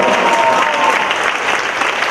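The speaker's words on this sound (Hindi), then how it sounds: "स्टैंडिंग ओवेशन ताली मारो यार" An audience gives a standing ovation after a family dance performance at a stage drama event, with loud, dense, continuous clapping throughout.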